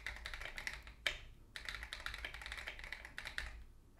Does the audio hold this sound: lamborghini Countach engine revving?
no